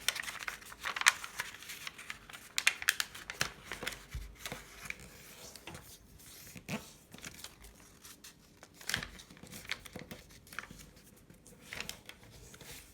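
Paper being cut with scissors and folded by hand to make a shuriken, with faint, close, irregular crinkles, snips and rustles scattered over a quiet background.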